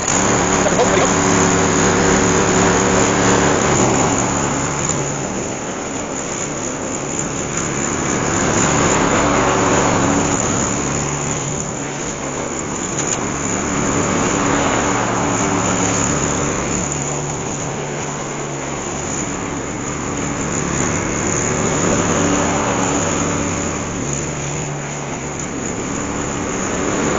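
An SGS 41cm self-propelled petrol lawnmower engine runs with a loud, steady, close motor drone that swells and eases slowly, apparently as the mower moves over grass.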